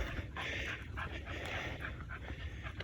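An old dog panting steadily on a rock wall hiking trail, quick rhythmic breaths heard close up and fairly loud against faint outdoor background.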